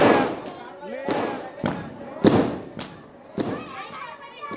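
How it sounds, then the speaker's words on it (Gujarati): Diwali firecrackers go off nearby in a string of sharp, irregular bangs and thuds, about half a second to a second apart, while people talk and call out around them. "હાલો ફટાકડા ફૂટ્યા હો"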